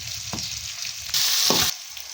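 Hot oil fries loudly in a pan as tomato pieces are added, with a sudden burst of intense sizzling in the middle and clattering stirs before and after, very close and with no talking.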